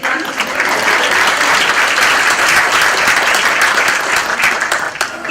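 Sustained audience applause fills a workshop or course session on fall safety and home modification, a steady dense wash of many hands clapping at even loudness throughout.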